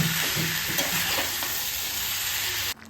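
Green jackfruit hitting hot oil with spices, turmeric and salt in a pan, a loud continuous close sizzle with stirring, cutting off abruptly near the end.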